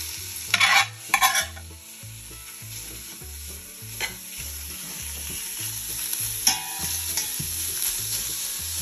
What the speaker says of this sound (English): So once you get the bacon chopped up somewhat, you can put it in the pan.